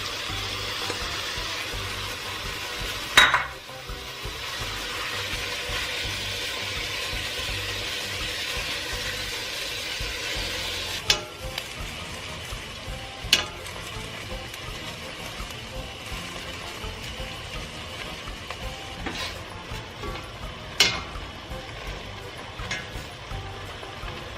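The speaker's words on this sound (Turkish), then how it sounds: "Tencereye etimi koyuyorum ve suyunu çekene kadar pişireceğim." Meat cooking in a pot until its water evaporates, a steady bubbling hiss with a few soft clinks and knocks, close by and without any talking.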